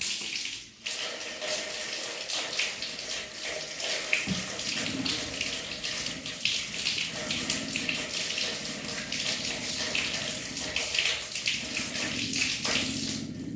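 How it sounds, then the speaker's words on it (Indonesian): Hands being rinsed under running tap water during a handwashing demonstration, a steady close splashing stream with small shifts as hands move, continuous throughout with no talk. "Kemudian baru bilas dengan air yang mengalir."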